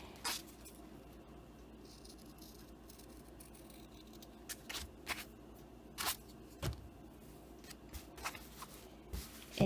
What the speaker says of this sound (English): And then you cut that little piece out.